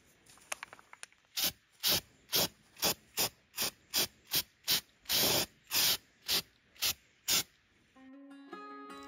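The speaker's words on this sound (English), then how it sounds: "It's just like spraying with spray paint." Spray paint is applied to a bowl for a rusty finish, heard as a dozen short, regular hissing bursts up close, some held slightly longer, ending with a faint sustained tone.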